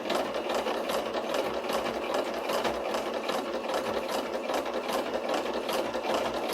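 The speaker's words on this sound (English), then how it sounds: "So I think I'm just going to sew them right on top." A sewing machine stitching ties onto a painted denim jacket, a steady fast mechanical whir with a regular rhythmic needle chatter, running continuously at close range without speech.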